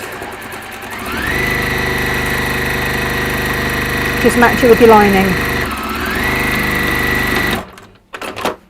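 A sewing machine runs fast with a loud, steady mechanical whir that speeds up and holds for several seconds, while a person talks over it briefly before the motor stops.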